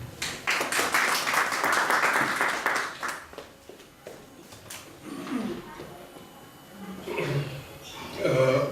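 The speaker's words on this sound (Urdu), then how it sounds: "آپ کی بھرپور تالیوں میں ڈاکٹر انعام حسین۔" An audience at a mushaira in Barcelona bursts into loud, dense applause for the first three seconds, then it thins into scattered claps and fades under the low rumble of the hall.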